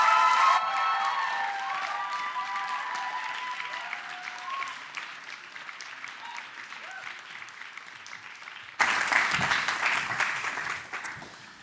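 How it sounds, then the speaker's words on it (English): Indoor audience at an evening gala panel on war with Iran applauding guests and moderators, steady clapping throughout with a few cheers and whistles early on, then a louder swell near the end. "please give a round of applause to our guests and moderators for tonight"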